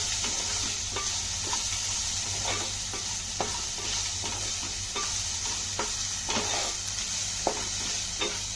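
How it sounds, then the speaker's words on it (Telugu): Dried prawns frying with salt on a low flame, a continuous crackling sizzle broken by repeated scraping stirs of the spoon in the pan, close and steady with no speech. "ఉప్పు తగినంత వేసి బాగా కలపండి ఈ ప్రాసెస్ అంతా మాత్రం సిమ్లో పెట్టే వేయించాలి"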